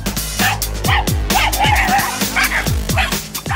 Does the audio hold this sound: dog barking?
yes